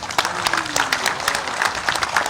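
An audience at an inauguration event in Ranchi claps for a visiting minister, giving irregular, fairly close applause with distinct individual claps over a low background murmur.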